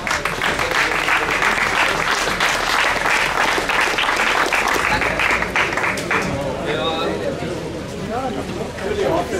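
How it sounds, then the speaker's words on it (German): A crowd applauds steadily at a sports event for a Tyrolean athlete, with loud sustained clapping and a host talking over it, fading slightly near the end. "meine Damen und Herren, Applaus für den Tiroler"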